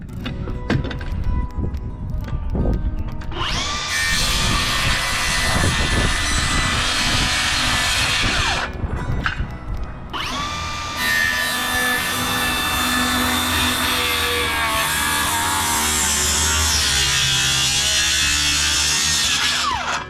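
Bosch 18V rear handle circular saw spinning up with a rising whine and cutting through wood in two long, loud passes, a brief lull between them, the motor winding down at the end.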